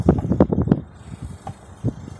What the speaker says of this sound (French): on est sur l'eau, comme tu peux le voir, il y a du vent